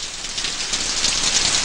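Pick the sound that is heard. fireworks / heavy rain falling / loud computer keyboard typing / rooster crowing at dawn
heavy rain falling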